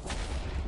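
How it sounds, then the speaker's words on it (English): A Minecraft creeper explodes in a single short, booming blast that fills the moment at close range with no talk over it. "Come here, creeper. Boom!"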